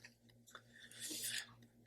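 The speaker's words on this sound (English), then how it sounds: "Chewing with my mouth full." Soft, close chewing of macarons, with moist mouth sounds and small bites rising to a louder crunchy burst midway over a quiet low hum.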